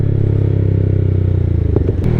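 Close, loud idle and light revving of a 213cc scooter fitted with performance parts, a steady throbbing engine note with a brief mechanical clatter near the end.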